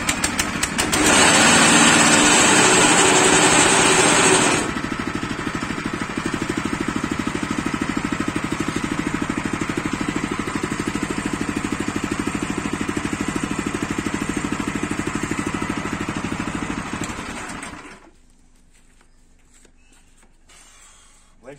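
A motorcycle engine with choke and ignition on runs steadily at a close, rattly idle for about eighteen seconds, loudest in the first few seconds, then cuts off abruptly, leaving near silence.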